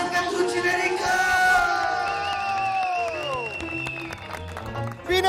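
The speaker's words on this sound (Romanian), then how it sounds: "Aplauze pentru Ginerică!" Wedding guests applaud and cheer for the groom, with a lively crowd of claps and whoops beneath music carrying sliding tones, while voices call out over the festive din.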